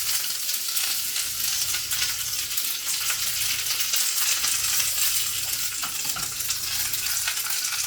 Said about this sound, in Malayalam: അപ്പോൾ എണ്ണ ചൂടായതുകൊണ്ട് കടുക് ഇട്ട് കൊടുക്കാം.